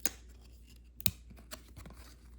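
A Topps baseball card pack is peeled open by hand, giving sharp crinkly foil tears near the start and around the one-second mark, then smaller rustles, close and fairly quiet.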